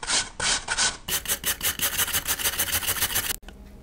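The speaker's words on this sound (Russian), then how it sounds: "Из яблок удаляем семенную коробочку, снимаем кожуру и натираем на той же терке." Peeled apples rubbed against a kitchen grater for a children's carrot salad, a close, loud rasping of rapid rhythmic strokes that pauses briefly and then continues faster before stopping abruptly, with no talk.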